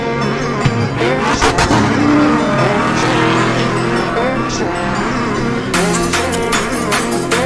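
A Lamborghini in a car race, engine revving loudly with whooshing passes and rising tones, people talking over the racing noise throughout.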